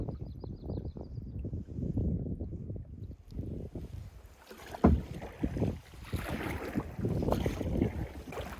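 A kayak glides over lake water with paddle splashes and hull sloshing, fairly close, steady through the clip under light wind noise.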